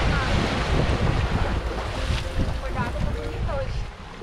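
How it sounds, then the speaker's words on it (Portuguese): Sea waves and gusty wind at Praia da Paciência beach in Penha, Santa Catarina, Brazil, a loud rushing surf with heavy wind buffeting the microphone throughout. "Eu adoro esse mar aqui."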